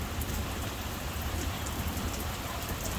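Heavy rain pours down steadily during a thunderstorm, a dense continuous hiss of drops hitting surfaces close by with no break, and no voices over it.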